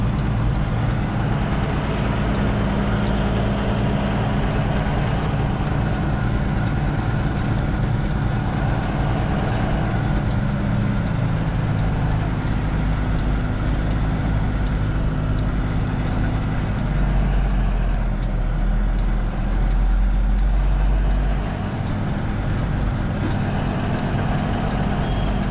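A large truck idles and creeps along, its diesel engine rumbling low and steady at close range while it backs a trailer into a parking spot at a large amusement park, the engine note shifting and deepening partway through.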